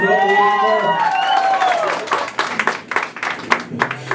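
At a birthday celebration with a youth mariachi band, a sustained vocal whoop and cheering come first, then a burst of loud, close applause with dense, uneven claps.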